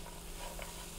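Honey is mixed into a stir-fry of small dried anchovies with nuts in a hot pan, a steady soft scraping stir over a low continuous sizzle, close and unbroken with no talking.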